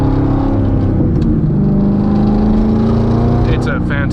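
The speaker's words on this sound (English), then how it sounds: "just getting on it a little bit sounds fantastic" A C6 Corvette Z06 engine drones loudly and steadily under acceleration from inside the cabin on a canyon drive, its low exhaust note rising slightly in pitch.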